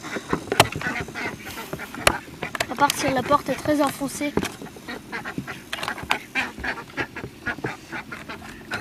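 Ducks released from their house quack and honk repeatedly in an irregular, lively chorus close by, with a person speaking French over them.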